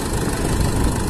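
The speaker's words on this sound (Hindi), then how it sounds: "ये दूसरा ट्रैक्टर आ चुका है" A Sonalika Tiger tractor idles close by during straw-making work with a reaper, a dense, steady engine rumble with rough vibration and no voices.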